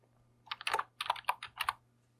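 Quick bursts of keystrokes on a computer keyboard as a track name is typed, several close, crisp clicks in uneven clusters over a faint steady hum, with no talking.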